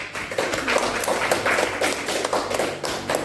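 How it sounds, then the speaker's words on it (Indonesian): Students in a classroom clapping for a presenting group, a moderate, steady patter of hands that continues evenly throughout. "Oke, tepuk tangan untuk semuanya"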